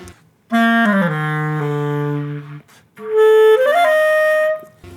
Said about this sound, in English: I seem to have a Yamaha clarinet.